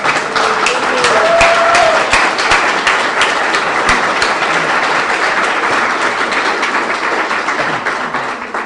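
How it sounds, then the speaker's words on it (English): An audience at an emergency response teams muster in Benicia claps for a long stretch, loud, dense applause that gradually thins and softens toward the end, with no clear talk over it. "So I'd like to give a round of applause tonight and have Ed Miller please stand up."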